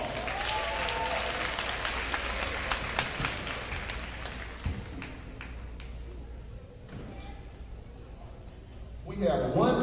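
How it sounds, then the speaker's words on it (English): At a high school class night, audience clapping starts strong and gradually dies away over the first half, followed by scattered thumps and shuffling, and a voice speaking at the end. "Let's give them another round of applause."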